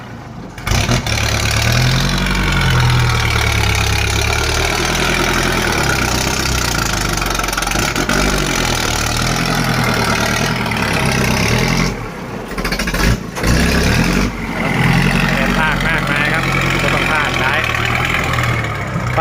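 A Kubota L5018 tractor idles with a loud modified exhaust, giving a continuous deep, rough engine rumble close by for the whole stretch. People talk over the noise now and then.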